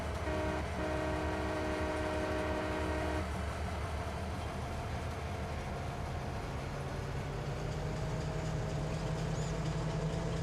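A train horn in Farming Simulator sounds a sustained multi-tone blast for about three seconds over the rumbling, clattering rail engine, which keeps running steadily afterward with a lower drone.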